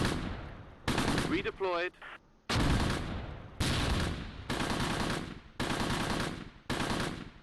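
Bursts of automatic gunfire from World War II infantry combat in the Close Combat Gateway to Caen strategy game, set at Cheux in Normandy, come in repeated loud sustained volleys with short gaps, and a voice speaks briefly amid the firing.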